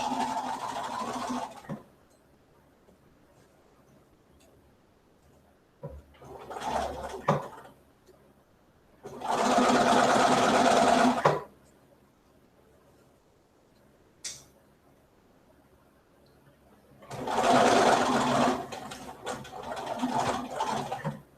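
A sewing machine runs a quarter-inch seam on a t-shirt in several short bursts of whirring stitching, separated by quiet pauses, close and fairly loud.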